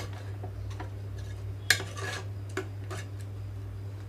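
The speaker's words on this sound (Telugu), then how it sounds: "కొంచెం నేను ఇక్కడ పప్పు గుత్తుతో మెదుపుకుంటున్నానండి" Cooked dal being mashed in a pot with a wooden dal masher: sparse soft knocks and scrapes, one sharper clack, over a steady low hum.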